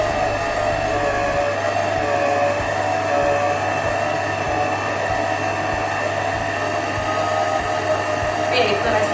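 A stand mixer churns cookie dough for 3D Spiderman cookies at a raised speed, giving a loud, steady motor whir that runs close and unbroken throughout.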